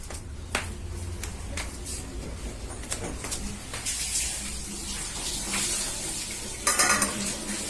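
An egg cooking in a pan in a home kitchen, with soft sizzling under clattering pots, dishes and cutlery and stirring sounds, steady throughout with a few sharper clinks near the end.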